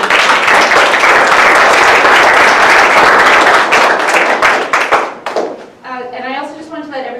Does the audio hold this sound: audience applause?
yes